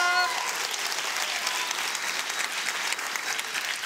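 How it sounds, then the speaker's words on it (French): Warm, sustained applause from an evening-show audience at Cergy Paris University for a group of performers, steady and full from start to finish, with a faint tonal sound at the very beginning. "Et on peut les applaudir encore bien fort."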